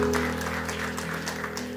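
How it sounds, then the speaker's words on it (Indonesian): A church congregation at a Sunday service claps together in a dense, steady wash of applause that fills the room at moderate loudness for a brief moment. "Berikan tepuk tangan dulu untuk Tuhan."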